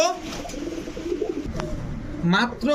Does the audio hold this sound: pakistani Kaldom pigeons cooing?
yes